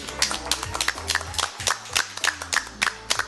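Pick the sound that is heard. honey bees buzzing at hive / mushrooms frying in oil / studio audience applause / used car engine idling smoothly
studio audience applause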